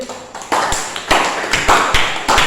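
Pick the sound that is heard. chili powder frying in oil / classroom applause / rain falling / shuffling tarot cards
classroom applause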